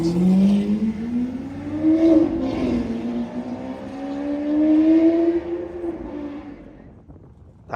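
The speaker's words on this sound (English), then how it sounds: "That V12 howl is the sound of summer in London." A Lamborghini Aventador SV with its V12 at full throttle on a London street, loud howling revs climbing and dropping through gears as it passes close, then fading into the distance.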